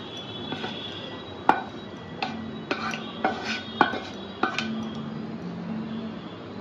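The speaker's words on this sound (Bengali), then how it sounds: "এবার আমি নামাবো। প্লেটে ঢেলে পুরটাকে একটু ঠান্ডা করতে দেব।" Cooked fish filling scraped from a pan onto a plate, a series of sharp metal clinks and taps at irregular intervals over a low background hiss.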